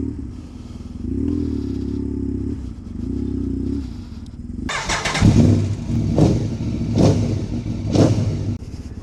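Custom BMW R1150GS Scrambler motorcycle, a boxer-twin bike, idling then revving hard and pulling away, loud and close with throttle blips and gear changes on a road near a busy biker spot.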